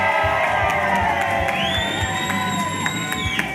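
Crowd cheering, whooping and shouting loudly at a community outreach session, a dense sustained roar with rising high-pitched yells close by.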